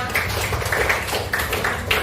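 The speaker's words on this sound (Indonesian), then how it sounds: "tepuk tangan untuk kita semua" A group in a classroom claps for everyone during a coaching session, a loud, busy patter of many hands with slightly uneven bursts.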